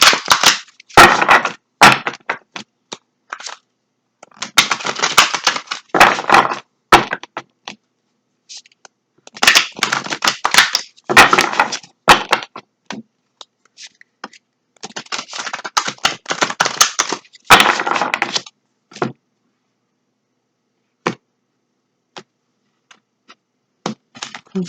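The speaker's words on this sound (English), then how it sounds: "I'm going to shuffle again because I don't think I'm shuffling well enough." Tarot cards are shuffled in close, rapid riffling bursts, several clusters of crisp fluttering clicks separated by short silences, with a few isolated taps at the end.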